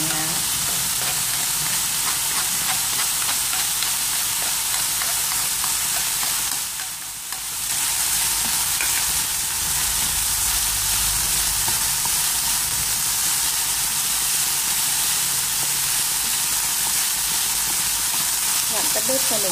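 Minced pork stir-frying in a hot pan, a loud continuous sizzle with scraping stirs, close and steady throughout with one brief dip in the middle.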